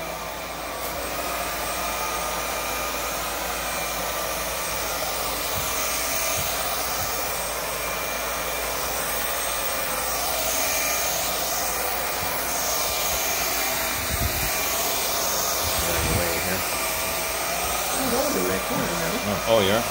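Vaclab X11 Pro vacuum cleaner on carpet strewn with fake tree needles, a loud, steady high-pitched motor whine with shifting airflow and brief knocks as it is pushed, and faint voices underneath.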